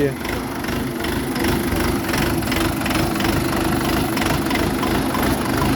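An Orion JD504R tractor's KM495 diesel engine idles steadily nearby, a loud, even low chugging that continues throughout with no break.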